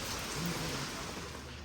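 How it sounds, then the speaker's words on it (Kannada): Rain falls outside on a quiet residential street in Bangalore, a steady faint hiss of drops with no other sounds. "ಈ ಥರ ಮಳೆ ಬಂದಿದ್ದು."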